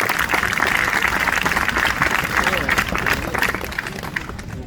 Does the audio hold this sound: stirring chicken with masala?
no